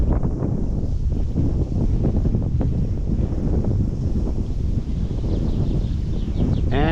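Outdoors on a trout stream, strong wind buffets the microphone with a constant low rumble and gusty roar that lasts the whole stretch, with no voices heard.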